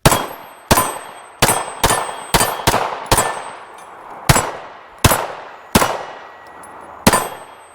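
Shots from a Tisas PX-9 Tactical Comp 9mm compensated pistol ring out sharp and loud, about a dozen cracks at uneven intervals, some in quick pairs, each followed by a brief ringing decay, with no speech between them.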